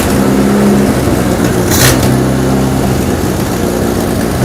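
A 1964 International Scout, abandoned for 40 years, runs steadily after first firing up, its engine a loud, continuous close-up rumble with a brief surge of revving partway through.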